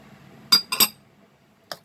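Nuts tumbling into a bowl of ripe banana pakora batter, a quick double clatter of hard pieces hitting the bowl followed by one lighter clink, close and otherwise quiet.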